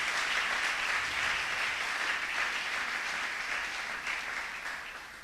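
A church congregation claps and cheers for God in a dense, sustained burst of applause that fills the room and slowly fades toward the end.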